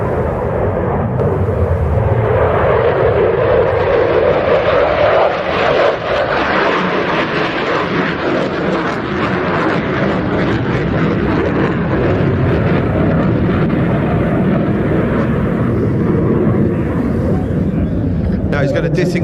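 A jet with reheat lit thunders through a series of rolls at an air show, a broad roaring blast held loud and steady from start to finish, with a commentator speaking over it.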